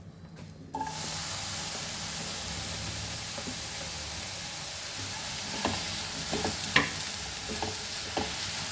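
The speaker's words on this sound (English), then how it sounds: "And like this only, slowly fry this." Tomatoes frying slowly in a pan without oil, a steady close sizzle that starts after a brief quiet moment, with occasional spoon scrapes and taps near the end.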